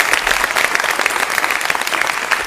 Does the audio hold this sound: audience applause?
yes